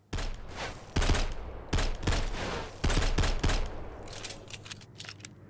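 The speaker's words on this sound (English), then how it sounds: "I can snap them with my assault rifle" Rapid bursts of assault rifle gunfire in a post-apocalyptic zombie shooter video game on a desert map come in several volleys with short pauses between them, loud and close.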